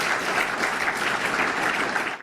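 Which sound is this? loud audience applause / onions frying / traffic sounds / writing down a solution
loud audience applause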